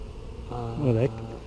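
A brief buzzing drone with a wavering pitch, a honey bee flying close past near a hive, rising and falling over about half a second against a quiet background.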